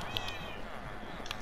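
A cat meows in a video game: two short, faint meows, one near the start and one near the end, over a steady hiss.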